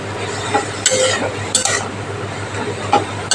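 Young bottle gourd frying in a pan while a metal spoon stirs it: a close sizzle and hiss with several sharp scrapes and clinks of the utensil against the pan.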